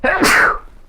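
A single loud, close human sneeze, sharp and brief, with a breathy burst and a quick tail-off.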